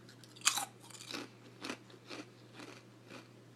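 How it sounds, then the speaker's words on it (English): Crisp, crunchy chewing of a tortilla chip close to the mouth, a sharp first bite followed by several quieter rhythmic crunches, faint and without speech. "listen to this crunch"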